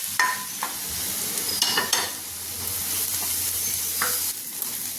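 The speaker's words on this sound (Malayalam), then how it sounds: "ഞാൻ പച്ചമുളകും കൂടെ ഇട്ട് കൊടുക്കാം" Green chilies frying with onions in a pan, a close, steady sizzle broken by several scraping stirs of a spoon, with no voices.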